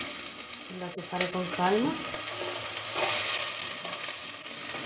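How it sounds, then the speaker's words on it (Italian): Onion sizzles in hot oil in a home kitchen, a steady frying hiss with a few stirring knocks, under a short spoken remark. "una volta arrivati a temperatura io aggiungo cipolla"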